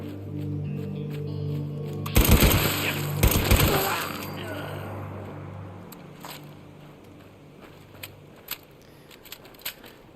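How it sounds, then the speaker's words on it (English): Gunfire from a raider in a shooter video game: a loud close burst of rapid shots, then a second burst a second later, with sharp faint pops trailing afterward over a steady game background hum. "There's a raider shooting at me"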